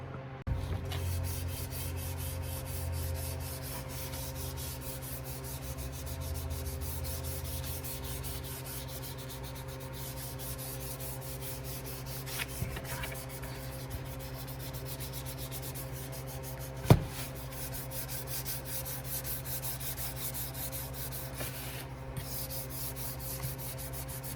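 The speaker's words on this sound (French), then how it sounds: "je vais faire le ponçage" The wooden stock of an M1 Garand rifle is sanded along the grain, giving a continuous, quiet, even rubbing with one sharp knock partway through, heard close and without talk.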